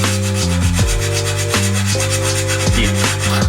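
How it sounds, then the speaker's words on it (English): A hand file worked across the teeth of an antique crosscut saw during sharpening, rubbing rasping strokes in a steady rhythm, close and continuous with a ringing metallic tone from the saw plate. "Keep filing it down until it's a clean facet."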